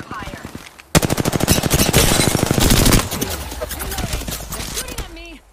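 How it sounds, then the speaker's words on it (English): Rapid automatic gunfire aimed at the player in a ranked first-person shooter match, a loud sustained burst of closely spaced shots followed by scattered impacts, with a voice talking over parts of it. "They're shooting at me."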